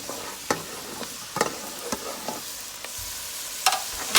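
Onion and broccoli fry in a pan at home, a quiet steady sizzle broken by irregular scraping knocks of a utensil stirring the vegetables, fairly close and without talk.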